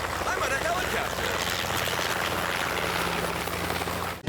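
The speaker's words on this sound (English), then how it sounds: "I'm on a helicopter." A helicopter's engine and rotor give a steady, loud, close whirring drone for a few seconds, heard from inside the cabin.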